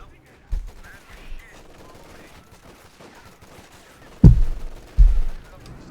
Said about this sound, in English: half-track blazing with its main gun there, it's 50 cal